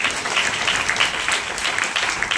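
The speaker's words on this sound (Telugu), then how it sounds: "చప్పట్లు కొట్టి దేవుని నామమున" Congregation clapping hands in praise of God at a church service, a steady dense wash of applause throughout, fairly loud and continuous with no break.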